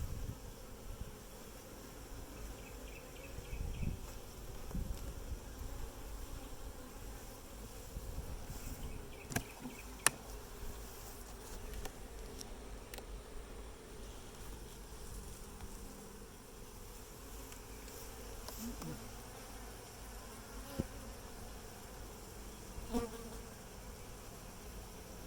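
Honey bees at an open hive in Pilot Point, Texas fill the air with a steady, continuous buzzing drone. Occasional small knocks and handling sounds come through, and nobody speaks.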